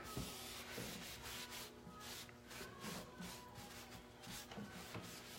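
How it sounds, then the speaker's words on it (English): Excess furniture wax is wiped off a piece of furniture with a microfiber cloth, producing faint, steady rubbing and swishing strokes in a quiet room. "So with a microfiber cloth, just wipe back the excess."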